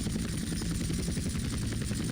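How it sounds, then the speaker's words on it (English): Helicopter in the video game GTA San Andreas, sounding unhealthy: a steady low rotor and engine drone with a rapid chopping pulse, close and constant, with no talk. "The helicopter don't sound healthy"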